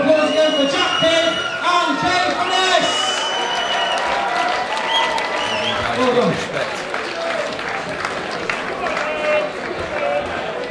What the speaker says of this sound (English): Please come and have a round of applause again for Jack Kidd.